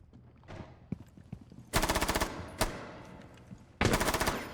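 Gunfire in a tactical shooter video game as a player shoots through a wall: two long, loud automatic bursts with rapid regular shots, a single sharp shot between them, and fainter scattered pops before.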